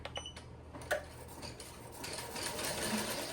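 Embroidery machine stitching a glitter HTV sleeve design, a steady mechanical whirring hum with faint ticking needle clicks running throughout at moderate, even volume.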